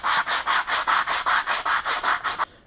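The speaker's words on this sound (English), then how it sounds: "start sanding it down basically" Rhythmic back-and-forth sanding strokes removing clear coat from a surface, about a dozen even rasping passes in quick succession, close by, stopping abruptly at the end.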